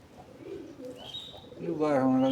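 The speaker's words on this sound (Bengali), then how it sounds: "এখানে কবুতর লাভবার্ড পাখি পালন করা হয়" Pigeons coo in cages at a farm that also keeps lovebirds, sheep, goats and cattle, with soft murmuring calls building to a louder, nearby throaty coo at the end and a brief high chirp midway.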